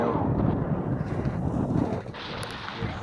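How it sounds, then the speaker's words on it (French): Strong wind roars steadily across the microphone aboard a sailboat, filling the sails, with a deep, blustery rumble, easing slightly near the end; no voices. "Ce vent qui pousse fortement dans les voiles."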